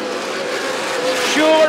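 Super late model race cars on a short track at a national championship race, with engine whine rising in pitch as they pass, heard briefly under a commentator's voice.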